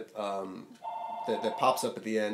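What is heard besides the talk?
office telephone ringing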